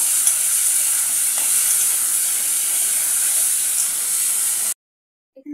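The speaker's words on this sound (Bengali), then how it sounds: "এখানে আলুটা ভাজা হয়ে গেছে," Potatoes frying in a pan with salt and turmeric give a steady close sizzle and hiss for nearly five seconds, then it cuts to near silence with a couple of soft knocks at the end.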